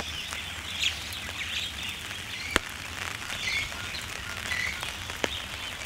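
Rain falling at Hazelmere Dam, a steady soft hiss of drops on surfaces with occasional sharper drip clicks and faint bird calls in the background.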